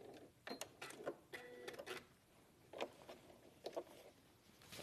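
A sewing machine stitches a seam through 100% cotton quilt fabric in short, faint bursts of rapid mechanical chatter, separated by brief pauses.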